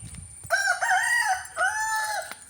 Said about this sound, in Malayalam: കോഴി കരയുന്നു.